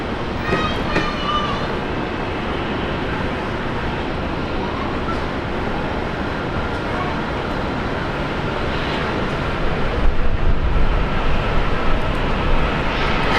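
A Batik Air Malaysia Boeing 737 MAX 8 rolls for takeoff at an airport, its engines a broad, steady roar that swells slightly louder toward the end, with talk faintly under it.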